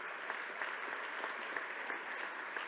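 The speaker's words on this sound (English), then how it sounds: "A big round of applause for these mayors." A hall audience gives a big round of applause for the mayors at an opening plenary session: dense, even clapping that holds steady for the whole stretch with no voices on top.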